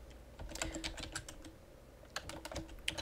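Light typing on a computer keyboard, with soft scattered key clicks in two short bursts separated by a pause, close and quiet with no talking.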